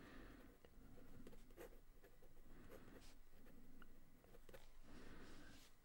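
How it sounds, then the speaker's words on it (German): Fountain pen nib scratching and gliding over smooth Clairefontaine DCP 160 g paper, a faint, steady close-up scritching with small rhythmic strokes and taps, no voices. "wie der Füllfederhalter hier über das Papier gleitet"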